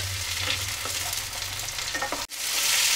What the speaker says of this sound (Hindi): अब इसमें हम डालेंगे ये बकला। और इसे हम प्याज के साथ भून लेंगे।